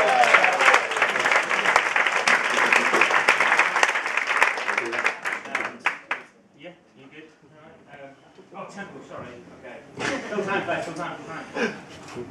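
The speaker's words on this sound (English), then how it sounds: "Give him a round of applause." Audience applause at a jazz concert in Leeds, a dense burst of clapping that fades after several seconds, followed by someone speaking and some scattered laughter and a few claps.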